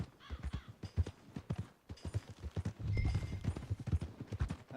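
Horse hooves clip-clop in a steady, close rhythm as the rider trots toward the stables in the video game Red Dead Redemption 2, with a brief faint tone partway through.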